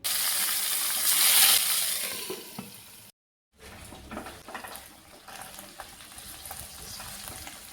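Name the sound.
hilsa fish paturi frying in mustard oil in a wok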